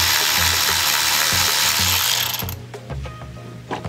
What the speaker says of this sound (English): I'm using my little electric ratchet here.